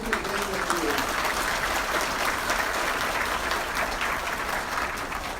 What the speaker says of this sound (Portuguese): até uma salva de palmas a todos que estão presentes aqui